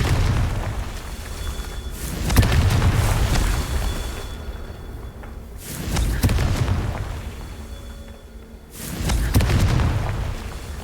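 Confringo fire spell blasts in Hogwarts Legacy, three loud booming explosions spaced a few seconds apart, each a broad rumbling burst that swells and fades, with no talk over them.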